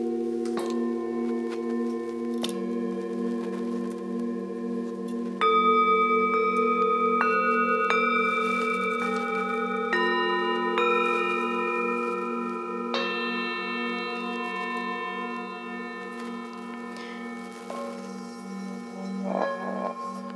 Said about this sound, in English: These bowls are more pure tones, whereas the Tibetan bowls are more harmonious,